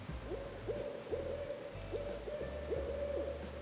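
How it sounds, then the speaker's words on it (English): An owl hoots repeatedly at a lake at night, a steady series of soft low calls at an even rhythm, fairly close and clear over a low background hum, with no voices. "there was this owl that kept Adam up at night"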